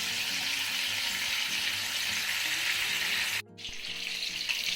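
Pieces of seer fish sizzle loudly in a pan of hot oil, a dense steady crackle that briefly dips around a sharp clatter as the fish is turned, then keeps frying.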